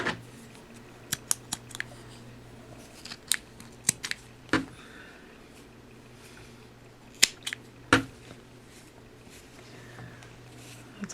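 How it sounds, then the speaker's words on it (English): Scissors snipping yarn ends on a crocheted dishcloth, with scattered sharp close snips and small clicks spaced irregularly over quiet handling noise. "And then I'm going to go back and cut all the other ends here."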